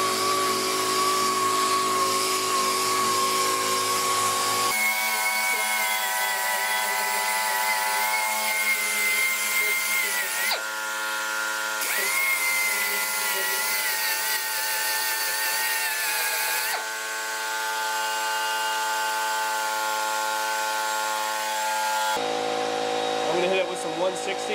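Car body filler on a Malibu is smoothed with 80-grit sandpaper, likely on a power sander, as a loud, close motor whine and rasp that shifts character in several abrupt stretches.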